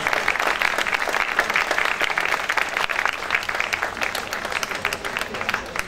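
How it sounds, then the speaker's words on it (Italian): Audience at a classical concert of guitar and string quartet applauding steadily, a continuous crackle of many hands clapping at moderate loudness throughout. "volevo fare un applauso a tutte le persone che hanno reso possibile questo posto"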